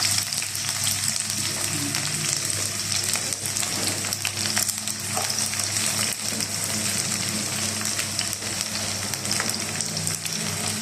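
Chopped onion and garlic frying in hot oil in a pan, a steady crackling sizzle that holds evenly throughout, close and moderately loud with no talking.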